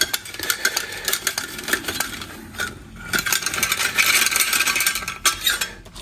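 Parmesan cheese grated by hand in a home kitchen, a busy scratchy rasping with quick uneven strokes and small metallic clinks, close and fairly loud, with no talking.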